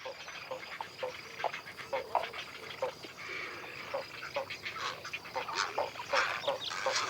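A nesting colony of herons, egrets and spoonbills in old cork oaks in the Doñana wetlands, heard as a dense chorus of overlapping honking and squawking calls, steady and moderately near.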